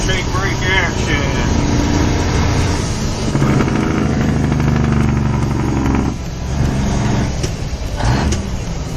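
Semi truck on the road with its engine brake engaged, a loud heavy rattling engine roar that rises and falls in waves, heard from inside the cab.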